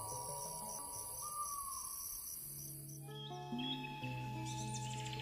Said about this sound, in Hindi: ये कितनी अजीब बात है कि रात में जंगल में सारी आवाज़ें बाहर आ जाती हैं। सारे कीड़े, रात में जागने वाले जानवर।